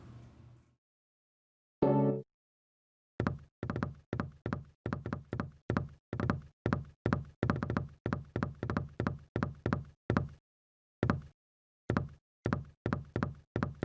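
A locked, broken door rattles in Silent Hill 4: The Room, with a sharp burst followed by a long run of close, rapid knocking jolts in quick irregular clusters, broken by brief gaps, with no talk.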